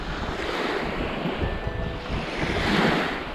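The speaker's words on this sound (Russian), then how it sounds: "Мне нравится, как накатываются волны на берег." Black Sea waves roll onto the shore at Vityazevo beach in winter, a continuous wash of surf with wind buffeting the microphone, swelling slightly louder toward the end.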